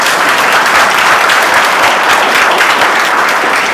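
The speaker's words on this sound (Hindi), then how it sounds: "एक बार पुनः जोरदार तालियां।" Loud, dense audience applause in a lecture gathering in Rajasthan, a sustained wash of many hands clapping evenly from start to finish, with no voices over it.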